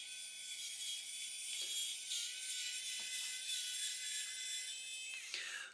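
A Kingsdun KS-882037 electric screwdriver drives a screw into a threaded insert, giving a steady, fairly loud high-pitched motor whine with faint ratcheting clicks and a short change in pitch near the end.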